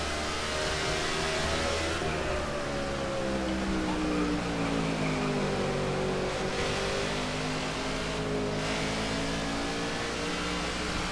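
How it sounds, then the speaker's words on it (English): NASCAR stock car engines roar steadily in a NASCAR '15 race at the Sylvania 300, loud and continuous with rising and falling pitch as several cars pass, alone with no talk. "A couple of cars are heading down pit road right now from the back of the field."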